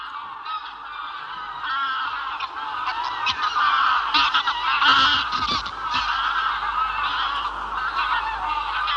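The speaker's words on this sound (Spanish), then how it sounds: "Los gansos volverán a él cada noche después de alimentarse durante el día en los alrededores." Flock of geese honking at a forest lake in the Caledonian forest, where they return each evening to roost, with many overlapping calls running continuously at moderate distance and no talk.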